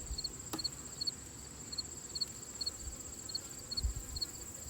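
A soft, steady honey bee hum from an open hive frame, with a high whining tone and regular faint chirps repeating, low rumbling handling noise underneath.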